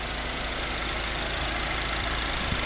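The 1.6-liter engine of a 2010 Mini Cooper John Cooper Works idles with the hood open, giving a steady, even hum and a fine mechanical patter, close and unbroken, with no talking.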